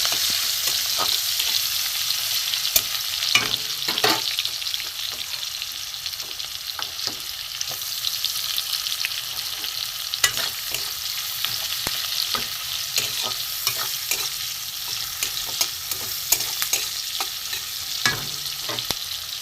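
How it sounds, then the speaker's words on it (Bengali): Onions with nigella seeds sizzle steadily in hot oil, with frequent scraping and clinking of a spatula stirring the pan. "কালো জিরে দিয়ে পেঁয়াজ দিয়ে দিলাম, পেঁয়াজটা একটু নেড়ে দেবো"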